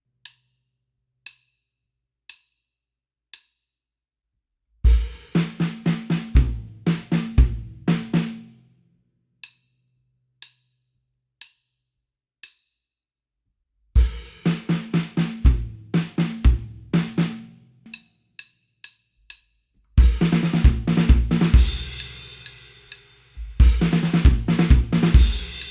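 Drum kit playing the intro groove of a song at a slow practice tempo: a few sparse hi-hat clicks, then bursts of steady kick, snare and cymbal beats, pausing and resuming, played alone without talk.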